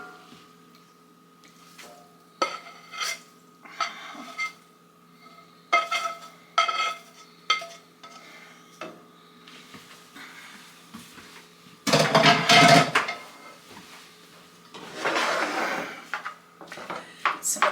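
Scrambled eggs get stirred into chicken and rice dog food in a pan, a spoon clinking and scraping against the metal in scattered taps, then a louder burst of rough scraping and mixing.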